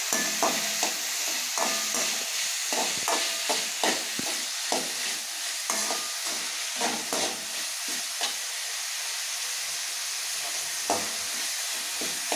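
Vegetables for a vegetable biryani sauté in hot oil with a steady sizzle, while a spoon stirs and scrapes the pan in regular, repeated strokes throughout.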